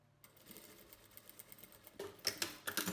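A sewing machine stitches the collar of a lined overcoat, a faint, steady mechanical whir that becomes a louder, rattling run of stitches near the end.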